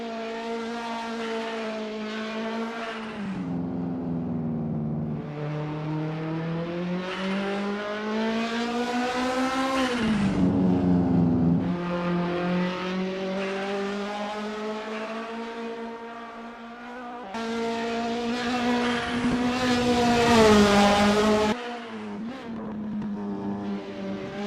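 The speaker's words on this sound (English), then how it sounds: "Nathan Vexler is getting to grips with the TCL BMW 2002 in this practice session." A TCL BMW 2002 touring car laps Mid-Ohio with the chicane during a practice session in Assetto Corsa, its engine note climbing and dropping through repeated gear changes, loud and steady without pause.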